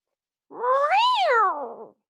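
A cat gives one loud, drawn-out meow that rises and then falls, close and clear against silence, with no talk.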